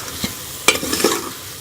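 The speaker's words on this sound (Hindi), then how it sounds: "अब इसके अंदर मैं ये नारियल क्रश किया हुआ नारियल डाल के इसको मिक्स कर लूँगी" Crushed coconut is stirred into a dried-down sugar mixture in a pan for a sweet paratha filling, with a few soft scrapes and taps over a faint, low sizzle.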